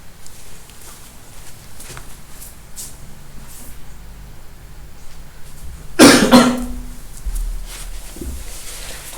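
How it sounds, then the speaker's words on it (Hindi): A single loud cough bursts out near the microphone over a low background hum, followed by quieter rustling. "थोड़ा सा खांसी आ रहा है"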